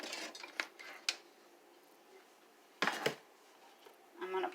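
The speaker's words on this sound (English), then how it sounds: "Now I'm going to take my crock pot." A crock pot is handled in a home kitchen during meal prep, with a few sharp ceramic and metal clunks and clatters spread across the clip, the loudest pair near the end, over a quiet room.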